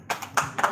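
A few scattered hand claps from a small audience at a forum discussion in Aceh, three or four sharp, fairly quiet bursts in under a second.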